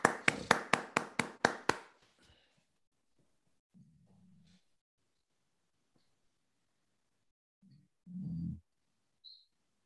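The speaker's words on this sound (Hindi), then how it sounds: "जोर से ताली अगेन सुजाता के लिए" About eight sharp hand claps ring out in a quick, even burst for a few seconds, fairly close, then give way to near silence with a few faint low thumps and a short low noise later.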